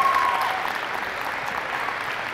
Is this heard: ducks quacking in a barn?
no